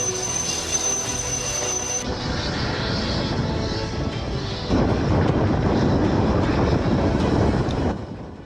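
MiG-29K fighter jets fly past the aircraft carrier Vikrant, a loud continuous jet roar with wind buffeting that surges to a heavier rumble midway, then drops off abruptly at the end.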